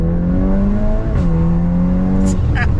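A tuned VW MK8 Golf R on its stock turbo accelerates, its engine droning steadily from inside the cabin with a short dip at a gear change and a few brief sharp chirps near the end.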